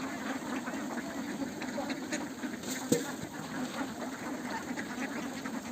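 A flock of farm ducks quacking while being fed, a dense, continuous chorus of overlapping quacks at moderate distance, with faint background noise and no clear talk.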